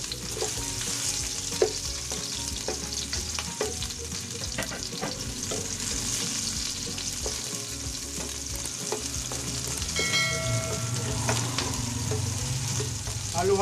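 Onions sizzle and fry in plenty of cooking oil in a pan for a Filipino pork tofu dish. The frying is loud and steady, with stirring scrapes throughout.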